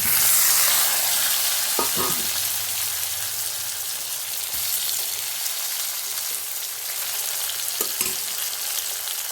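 Hilsa fish frying in a pan with a spice paste, a continuous close sizzle broken by a few sharp knocks and scrapes from stirring.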